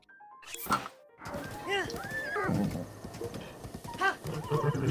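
A horse gallops in the video game The Legend of Zelda: Breath of the Wild, with rhythmic hoof clip-clops and snorting or whinny-like sounds mixed with game effects, while a person talks over it.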